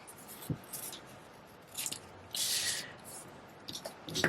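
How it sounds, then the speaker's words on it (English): Scissors cut around a paper tree shape for a layered grassy grove card, with a few quiet, close snips and longer rustling cuts spread unevenly across the stretch and no talking. "I am going to come up here and kind of cut around this"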